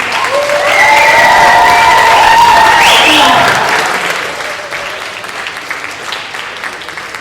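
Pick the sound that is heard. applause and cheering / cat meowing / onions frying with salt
applause and cheering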